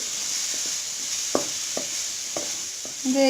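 Vegetables stir-fry in a pan with soy sauce for American chop suey, a steady close sizzle broken by a few sharp clicks of the spatula against the pan, with no voices.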